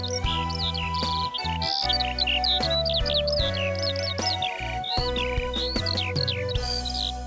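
A Eurasian skylark sings a rapid, continuous stream of high warbling chirps and trills over a steady musical backing, loud and close, with no talking.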